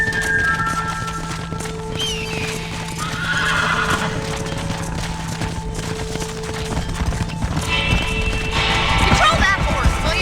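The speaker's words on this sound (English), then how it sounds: "Control that horse, will ya?" A horse whinnies amid galloping hoofbeats and a busy outdoor soundscape in Red Dead Redemption gameplay, with a steady background hum and scattered distant pops.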